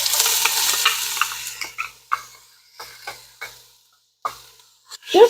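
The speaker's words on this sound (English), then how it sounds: "And I'm going to cook it just until the onion becomes translucent" Onion, garlic and peppers frying in a pan, a hiss that fades as a utensil scrapes and stirs in a series of distinct, close strokes, with a louder clatter at the very end.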